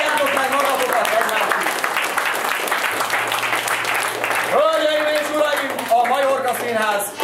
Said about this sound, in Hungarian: Tapsoljátok meg magatokat!